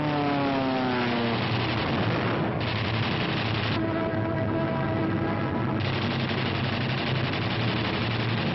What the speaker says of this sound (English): German fighters attempting to intercept the heavy bomber attack are shot down by P-47s